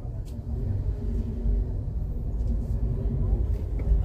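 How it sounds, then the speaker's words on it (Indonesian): Traffic jam on a road in Bau-Bau city, with steady low rumbling of idling cars and engines close by, continuing under a voice. "Sebelah kiri lagi nih macet."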